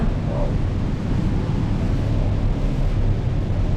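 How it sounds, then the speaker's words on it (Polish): A huge jungle waterfall roars in a dense, steady wash of low rumble close by, with no pauses and no voices. "zobacz jak się woda leje"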